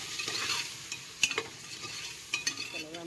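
A spoon scrapes and stirs ground spices and pepper through ingredients in a hot pan, a faint sizzle underneath with a few distinct clinking scrapes, close and quiet, no talk.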